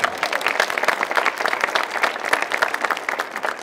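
An audience at an arts and crafts industry awards ceremony claps in a dense, continuous round of applause, steady and fairly loud throughout.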